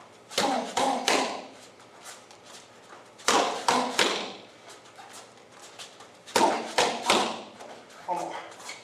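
Martial arts punches in a jeet kune do class, a lead straight, hook and cross, land as three quick thumping hits in a row. The set repeats three times, with someone talking between sets.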